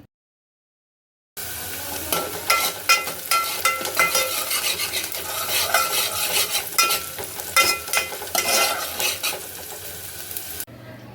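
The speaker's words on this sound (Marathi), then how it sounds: "कांदा व्यवस्थित गुलाबी लाल होईपर्यंत परतायचा आहे" Sliced onion sautéed in a pan, stirred steadily as it sizzles toward pinkish-red, with repeated scrapes and clinks of a spoon against the pan over a constant frying hiss, close and moderately loud.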